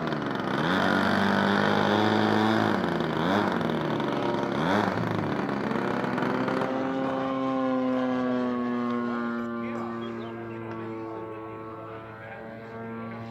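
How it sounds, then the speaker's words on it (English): A radio-controlled model airplane at a Sacramento-area modelers' demo passes overhead. Its loud, buzzing engine whine wavers in pitch as it sweeps by, then settles into a lower, fading drone as it moves away. "What a beautiful airplane."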